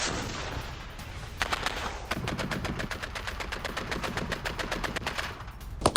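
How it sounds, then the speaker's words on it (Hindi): Rapid automatic gunfire from a rebel attack on the Syrian Arab Army rattles in long sustained bursts after a couple of isolated shots, dense and sharp at moderate distance with no talk. "ये देखिए जरा विद्रोहियों ने सीरियाई अरब सेना पर किया विनाशक हमला"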